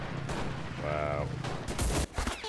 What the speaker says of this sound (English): My face met a, light machine gun.